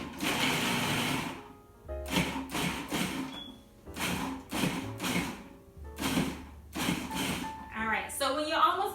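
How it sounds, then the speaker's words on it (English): Food processor pulsing diced onions and celery in short bursts, about seven quick whirring pulses separated by brief pauses, close and moderately loud. "So we're just going to pulse this a few times until we get down to some diced"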